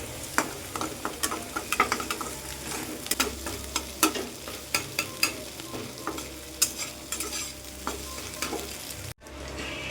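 Egg chicken tadka stirred and fried in a wok: a steady oil sizzle runs beneath repeated sharp spatula scrapes and clinks, close and evenly paced, with no talking.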